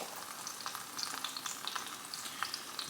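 An egg fries in peanut oil in a frying pan, giving a soft, faint crackling sizzle with scattered small pops, alone and fairly quiet.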